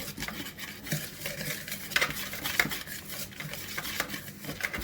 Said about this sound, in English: I'm going to whisk this together.